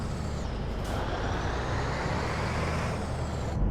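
A Scania R2009 truck engine in Euro Truck Simulator 2 strains as it pulls uphill under load. The drone is continuous and heavy, with steady road noise and a brief hiss near the end.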